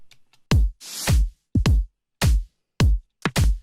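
Layered electronic drums playing together, producer-made kick and snare hits in a syncopated pattern, each hit deep and punchy with bright noisy tops, one longer noise swell, close and clean with no voices.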